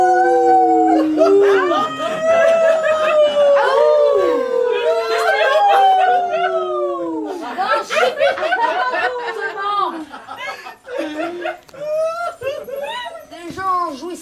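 Several improv performers on a Paris stage imitate wolves with their voices, layering long rising and falling howls that overlap, then break into yips, whimpers and chuckling sounds.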